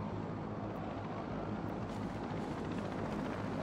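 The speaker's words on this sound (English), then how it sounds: "Oh no, helicopter." A helicopter in the video game Batman: Arkham City gives off a steady, dense rotor-and-engine roar that holds at an even level from start to finish, with no one speaking.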